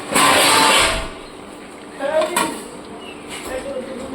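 A lid set over a pan of Madras-style chicken curry, a short metallic clatter followed by a couple of lighter clinks, close by.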